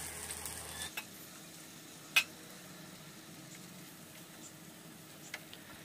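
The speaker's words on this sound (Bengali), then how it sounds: "তেল দিয়ে আমি বাটা মশলাটা দিয়ে দিলাম" Ground spice paste goes into hot oil on a tawa for a village-style pointed gourd dish and fries with a low, even sizzle, broken by a few faint clicks and one sharp tap, quiet and close with no talk.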